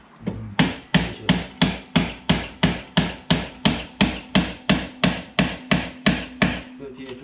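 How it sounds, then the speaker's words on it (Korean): A hammer strikes a loosened bolt on a Super Salon tuning brace kit in a steady series of about nineteen sharp, evenly spaced metallic knocks, close and loud, over a faint low hum. "그 다음에 망치를 때려. 이런 식으로."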